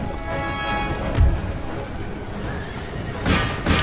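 Cavalry horses neighing in Empire Total War: loud whinnies over a busy battle din, with a dull thud and hoofbeat-like clatter, while someone talks quietly underneath.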